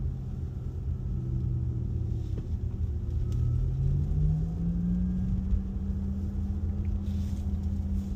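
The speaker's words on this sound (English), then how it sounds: "It's an engineered version of the electric motor sound." A 2023 Porsche Taycan electric car driving with its engineered motor sound, a smooth low hum that rises steadily in pitch as it accelerates, over constant road and cabin rumble.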